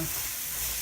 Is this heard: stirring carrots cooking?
yes